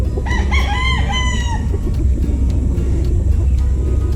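Heritage chickens crow and cluck in a farm yard, with one drawn-out crow early on over a constant steady background rumble and scattered clucks.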